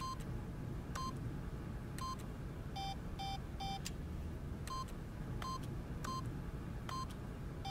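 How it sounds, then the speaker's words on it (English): Keypad code entry beeps in The Stanley Parable: a string of short, crisp electronic tones pressed one after another at an uneven pace, each brief and clear, sitting over a steady low background hum, with no talking. "Stanley simply began entering random codes into the keypad"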